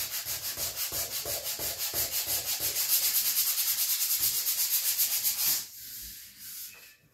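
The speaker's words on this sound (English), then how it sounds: "And obviously I'm sanding by hand," Filler being sanded by hand, a rhythmic back-and-forth rasping of quick, even strokes, close and fairly loud, stopping abruptly near the end followed by a couple of faint bumps.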